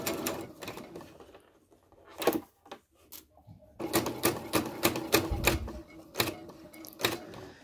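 Sewing machine stitching a double pointed dart, running in bursts of rapid mechanical chatter with short pauses between, close and fairly loud, with no talking.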